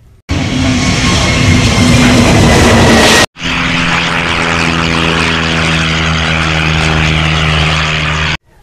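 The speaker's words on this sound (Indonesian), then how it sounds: "kita terbangkan dulu pesawat terbang toy plane-nya" A toy airplane's buzzing propeller motor whirs loudly and steadily, cuts out briefly, then restarts with a steady droning hum before stopping.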